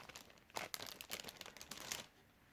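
Close, quiet crinkling of a thin cellophane bag, a burst of crackles and rustles lasting a couple of seconds, then fading.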